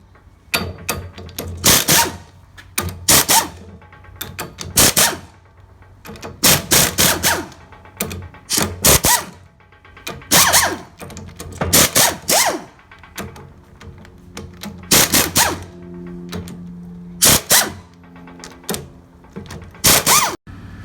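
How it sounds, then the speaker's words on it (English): A 14mm socket on a ratchet unbolts a manual transaxle case: loud, close bursts of rapid clicking repeat every second or two, with sharp metallic knocks between them and no speech. "14mm socket, and I'm going to unbolt this in a star pattern"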